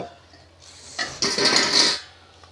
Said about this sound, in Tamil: கீழே ஒரு பாத்திரம் தம்முக்கு வைக்கிற மாதிரி வச்சுட்டு இது மேலே வச்சிடலாம்